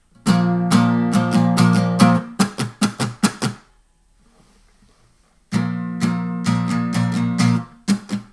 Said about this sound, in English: you're going to do down, up, down, up, down, up, muted strums, and that leads into the chorus.